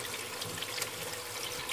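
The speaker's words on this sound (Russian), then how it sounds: "Вот поставила еще я их под проточную холодную водичку" Cold tap water runs steadily over eggs in a kitchen sink, a continuous soft splashing hiss at close range with no talking.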